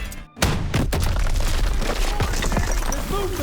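Deep bass booms of video game explosions in Call of Duty WWII rumble continuously with dense, crackling blasts layered over one another, loud and close.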